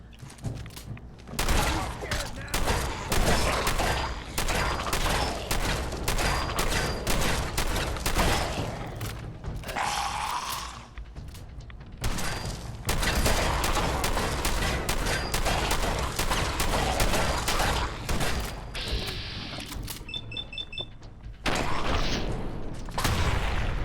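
Sustained gunfire in Fallout 4, dense overlapping shots and bursts nearly throughout, loud and close with brief lulls; a voice talks over parts of it.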